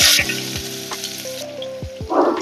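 Sliced onions are tossed into hot oil already holding cinnamon, bay leaf, cloves and cardamom for egg biryani, giving a loud, steady sizzle with a few sharp clinks of a utensil against the pan and no talking.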